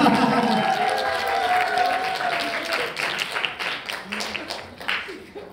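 A lecture audience applauds to welcome an animation director to the stage, a dense, steady wash of many hands that holds throughout and gradually thins toward the end, with a host's voice briefly heard at the start.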